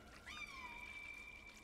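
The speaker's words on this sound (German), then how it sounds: "Und dann hört man die Miaus auch noch von oben runter" A single faint, drawn-out cat meow from the video game Stray, sounding from above over a low, steady background hum.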